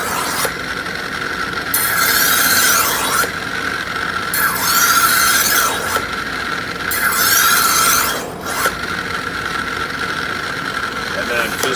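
Kitchen knife drawn across a sharpening stone under firm pressure, a series of long, loud grinding strokes, close and rhythmic, repeating several times with brief pauses between passes.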